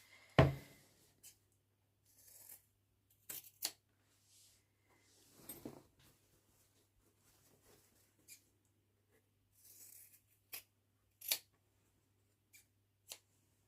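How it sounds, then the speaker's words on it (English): Scissors snip through fabric seam allowances on a sewing project, a sparse series of short, crisp cuts spread out with quiet pauses between them, close and fairly soft. "I'm just going to tidy this up a bit by trimming my seam allowances"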